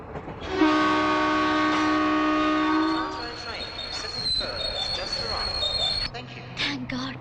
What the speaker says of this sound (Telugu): ట్రైన్ మళ్ళీ బయలుదేరుతుందండి.